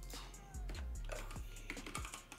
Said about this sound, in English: I type in Leitner.